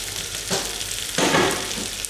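Turmeric hitting hot oil in a pan while making sambhar, a steady crackling sizzle that swells louder partway through, with faint stirring and no voices.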